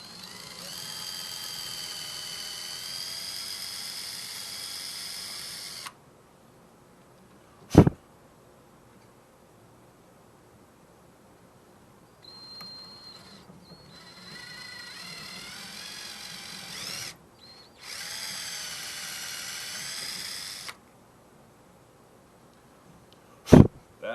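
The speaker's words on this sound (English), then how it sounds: "Alright, so we got our drill" A power drill runs in two sustained bursts while drilling holes for a Bigsby B5 vibrato and Mastery bridge install on a Telecaster guitar body, whining steadily for several seconds each, separated by quieter handling noise and a couple of sharp knocks.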